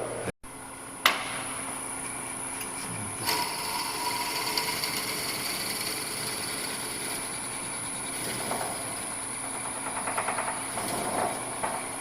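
A power drill hums steadily at moderate speed for several seconds while drilling a pen blank, with a few sharp knocks and a constant mechanical whine.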